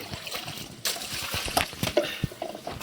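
Taro leaves being washed by hand in a basin of water, with irregular splashes, sloshes and trickles close by, some sharper splashes standing out, and no talk.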